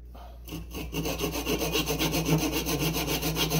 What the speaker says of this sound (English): Now you don't have to cut right next to the base of the cup.